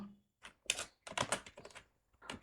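Short bursts of clicking keystrokes on a computer keyboard while entering data in a Microsoft Excel sheet, close and crisp, with brief pauses between clusters.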